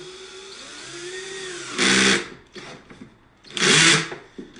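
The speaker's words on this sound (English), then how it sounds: "get this fun drill. Try not to drill through my wife's kitchen table" A power drill whines in two loud bursts, biting into wood, with quieter handling noises between and a faint hum beforehand.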